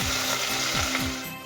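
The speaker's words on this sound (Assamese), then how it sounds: "মছলাখিনি ভাজি ল'লোঁ ধুনীয়াকৈ ৰঙা হৈ যোৱালৈকে" Spices fry for a goat meat curry, giving a steady close sizzle with occasional stirring scrapes, loud and continuous with no voices.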